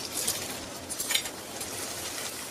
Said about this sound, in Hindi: घी गरम हो गया है, थोड़ा थोड़ा गोंद डाल के इसे फ्राई करेंगे।